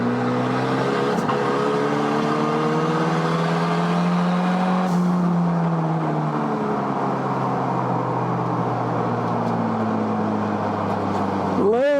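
A car engine roars continuously up close on a race track, its pitch climbing and falling with gear changes, ending in a sharp high rev as it accelerates.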